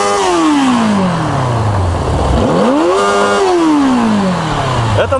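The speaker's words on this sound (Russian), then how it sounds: "Мотоцикл прекрасно заработал. Посмотрите, как он легко отзывается на обороты." A Yamaha FZX750 motorcycle engine revs loud and close, its pitch sweeping down, dipping, then climbing sharply and falling away again in a smooth rise-and-fall of throttle blips.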